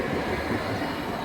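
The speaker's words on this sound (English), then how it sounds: "more street trams" A street tram passes in Rostock, Germany, with a steady low rolling rumble of wheels on rails at moderate distance and no talking.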